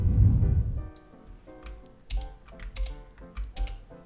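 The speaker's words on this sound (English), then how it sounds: "If I click Alt Backspace" Keys on a computer keyboard click several times in quick succession as a shortcut is pressed, close and crisp after a low thump at the start, with no talking.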